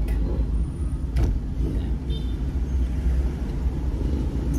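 Street traffic at a corner: a low, continuous rumble of passing cars and buses, fairly close but moderate in level, with faint voices in the background.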